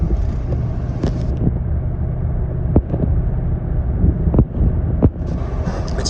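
Cabin view of a 1941 Ford on the move, its engine a steady low rumble mixed with road and wind noise, punctuated by a few sharp knocks and bumps.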